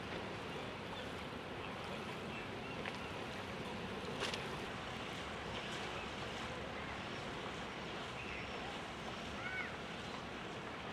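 Steady wash of water and engine rumble from a ferry underway in old docks, with wind noise buffeting throughout and a few faint creaks.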